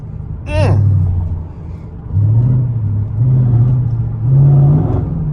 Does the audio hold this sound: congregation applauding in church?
no